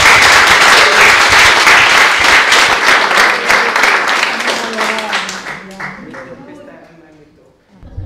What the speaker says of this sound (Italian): volevamo concludere così con un bel applauso anche a Paola